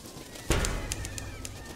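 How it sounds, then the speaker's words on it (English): Birds attack in the video game Sunless Sea, with a sharp burst of flapping onset followed by repeated cooing pigeon-like calls over a soft background. "I'm literally going to be killed by birds."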